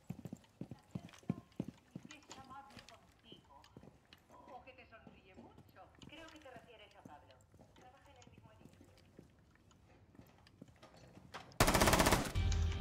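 Gunfire in the tactical shooter Rainbow Six Siege, rapid bursts of close, sharp automatic shots scattered among footsteps and game sounds, ending in a loud sustained blast of noise, with talking throughout.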